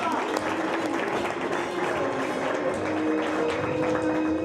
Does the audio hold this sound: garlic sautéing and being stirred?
no